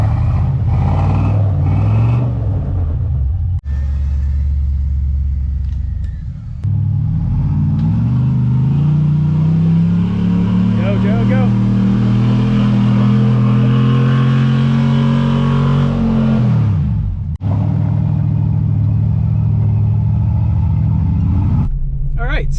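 A Jeep XJ engine revs and strains while climbing a steep off-road hill at Haspin Acres, its pitch rising and holding under load before suddenly dropping away as power cuts; voices talk over the loud, close engine.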